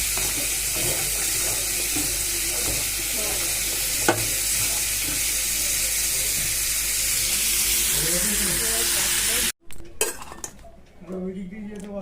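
Potato mixture frying in a wok (kadai), with a steady hiss and scattered metal clinks from stirring, running continuously before a sudden cut into brief clattering kitchen noise near the end.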